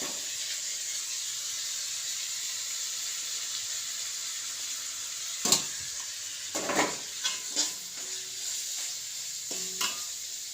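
Vegetables for semiya upma cook in a pan as grated coconut goes in, giving a steady close sizzle and hiss, with a few clattering stirring scrapes in the second half. No one speaks.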